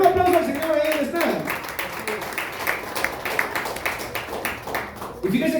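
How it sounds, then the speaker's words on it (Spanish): A church congregation bursts into sustained clapping after a preacher's brief words, the dense patter of many hands running for several seconds before the voice returns. "Denle un aplauso al Señor, ahí donde está."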